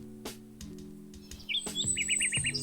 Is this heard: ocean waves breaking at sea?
no